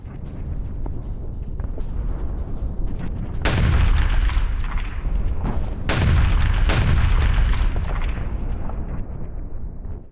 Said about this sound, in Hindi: यूक्रेनी ठिकानों पर रूस ने की है ताबड़तोड़ बमबारी